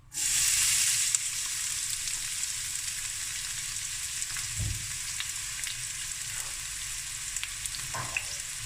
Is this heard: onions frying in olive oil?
yes